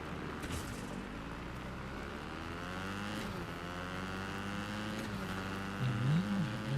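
A car engine in the video game Fortnite hums steadily with shifting harmonic tones as it drives, growing slightly louder near the end; no one speaks.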